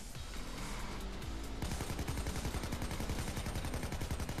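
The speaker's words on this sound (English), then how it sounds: "Now I can start firing." Sustained automatic gunfire in the heist shooter Payday 2, a dense rapid stream of shots that grows heavier partway through and keeps hammering without pause.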